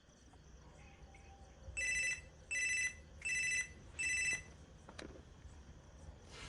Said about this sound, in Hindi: अब निशाना सही लगा है तो फोन बजेगा